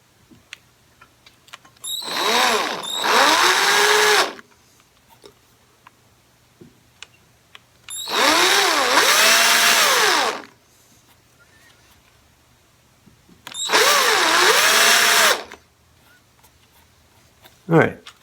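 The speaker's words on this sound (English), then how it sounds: "Okay, hole is drilled. The countersinking commence." A power drill countersinks a strap button hole in a Stratocaster guitar body, running in three whining bursts of a few seconds each, with rising and falling pitch and quiet pauses between them.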